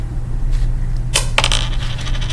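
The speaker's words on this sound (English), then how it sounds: "So I'm going to flip the coin." A coin is flipped and lands on a hard surface, giving a sharp metallic clink followed by a quick rattle as it settles, heard alone over a low steady hum.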